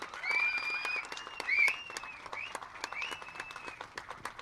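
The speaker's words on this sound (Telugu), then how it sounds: "అలాగే గట్టిగా ఒకసారి మ్యామ్కి చప్పట్లు" Applause rings out for an actress at a Zee Telugu launch event for the prime-time drama 'Jayam'. An audience claps in steady, moderate rounds while a high whistling tone runs over it, and there is no clear talk.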